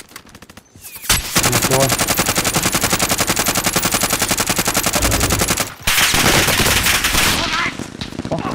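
Rapid automatic gunfire from the Call of Duty: Modern Warfare game, loud and nearly continuous, broken by one brief pause, with a player talking over the shooting.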